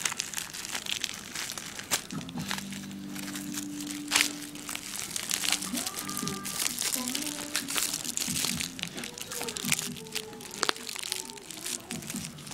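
Crinkly plastic packaging of a silicone LED digital touch-screen wrist watch being ripped open by hand, close rustling, crackling and tearing throughout while a person talks and hums over it.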